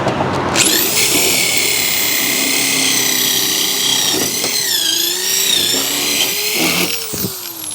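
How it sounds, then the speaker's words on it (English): A power drill bores a hole, its motor whining steadily and loud up close, with pitch sagging and recovering as the bit bites into the material, then spinning down near the end. "I just drilled an extra hole."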